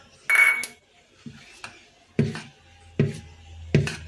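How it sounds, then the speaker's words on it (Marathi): Chopped onion and coriander are mixed in a bowl with a spoon, giving about five distinct metallic clinks and scrapes, spaced unevenly and close by. "हे सगळं आपण आता एकत्र करून घ्यायचं"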